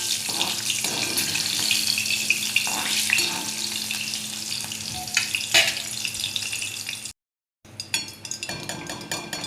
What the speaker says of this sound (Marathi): मी गॅस करते बंद आणि ह्या मिरच्या तळून घेऊ आता आपण